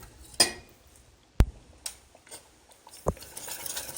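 Spoon clinking and scraping against a pot while stirring a boiling maple syrup tart filling, a few sharp distinct knocks separated by quiet bubbling and soft scraping.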